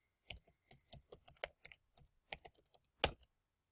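Someone types on a computer keyboard, entering an email and password in short irregular bursts of close, crisp key clicks separated by brief pauses, with no talking.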